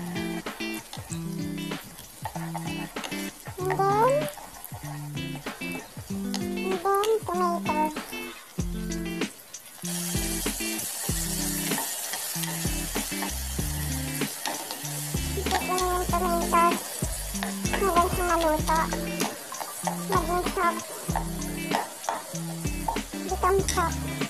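Garlic sautés in a pan while lentil soup is prepared, a light sizzle running beneath a person's steady talking, with a brief swell of frying hiss partway through.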